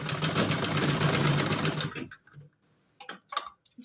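A sewing machine runs a straight seam on a frock, a fast even run of clattering stitches for about two seconds, then stops, followed by a few separate clicks and knocks close by.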